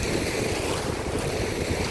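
Strong, cold wind sweeps across a beach in the afternoon, a continuous loud roar of gusts buffeting the microphone with the surf blended in and no voices.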